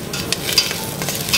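Onion, celery and leek sauté in butter over gentle heat for a fish stock, giving a soft, steady sizzle with light stirring and scraping sounds close by and no talk.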